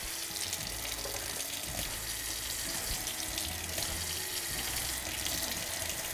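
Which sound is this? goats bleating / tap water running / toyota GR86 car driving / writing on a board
tap water running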